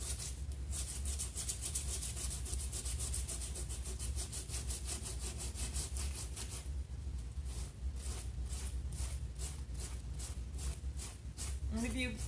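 Sandpaper rasps by hand over a painted wooden coffee table in steady back-and-forth strokes, close and fairly loud, with a voice talking over the rhythmic scraping.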